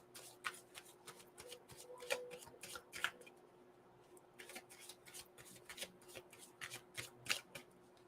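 Heal Yourself reading cards riffle and flick in repeated quick bursts of shuffling, close and crisp, with brief pauses between riffles and no talk.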